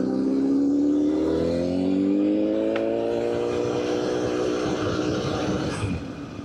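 A liter bike motorcycle engine rumbles loudly and close at low riding speed, its deep steady tone rising and falling gently as the bike rolls slowly along at night.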